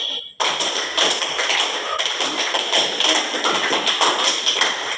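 A classroom group of students performs a rhythmic hand-clapping routine, five claps repeated three times, starting abruptly and continuing as dense, busy clapping close by.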